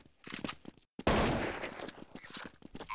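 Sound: gunfire in video game Counter-Strike 1.6

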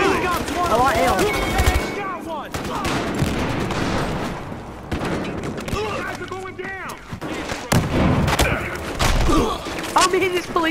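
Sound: gunfire in the video game Battlefield Hardline

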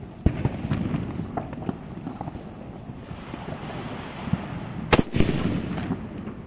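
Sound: hydro sutli bomb firecracker exploding

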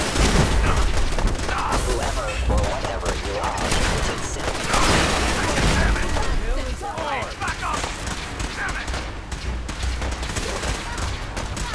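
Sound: gunfire from fighting in the video game Fallout 4

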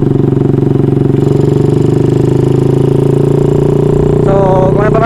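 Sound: Honda Wave 100 motorcycle with 53mm bore revving

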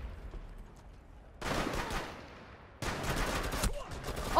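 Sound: gunfire from the video game Rainbow Six Siege

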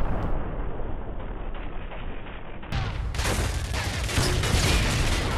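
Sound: Semtex explosion in a video game

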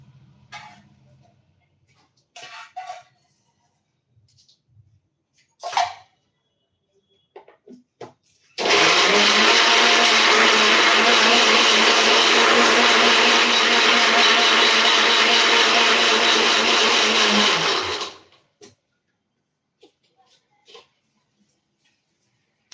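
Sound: blender grinding herbal paste with fenugreek-soaked water

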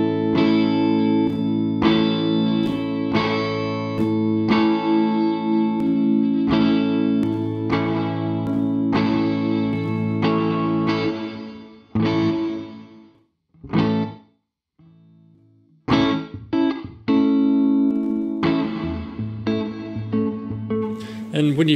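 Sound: Protoverb reverb plugin random model settings

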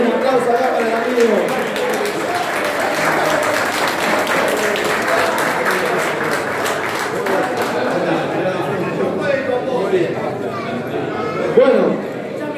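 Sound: audience applause at a kayak clinic

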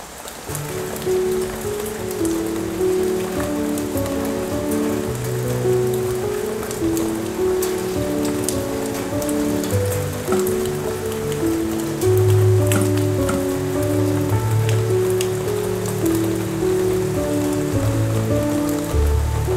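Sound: rain falling outside an open window

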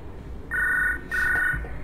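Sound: telephone ringing in video game Hard Time 2D

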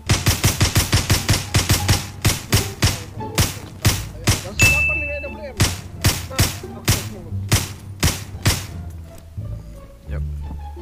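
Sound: gunfire in a video game

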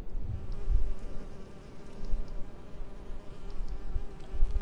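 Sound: buzzing wasps in Nightmares from the Deep 3 video game

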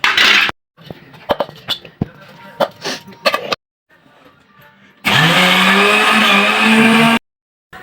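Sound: mixer grinder grinding onion garlic masala

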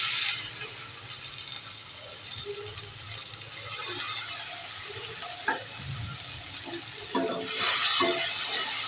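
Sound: stirring chili and tomato frying with onions for tuna curry

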